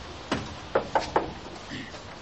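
Four sharp knocks rap on a door in a quick uneven burst, fairly close and clear, with a faint murmur afterward.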